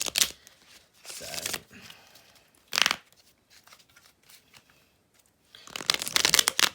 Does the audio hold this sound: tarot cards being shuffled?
yes